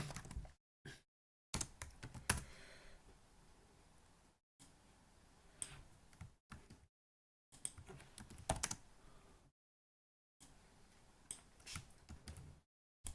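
Java code being typed on a computer keyboard, bursts of rapid close key clicks separated by short pauses, with no talking.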